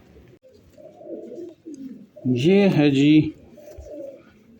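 Freshly caught pigeons give low, throaty coos close by, while someone speaks briefly over them.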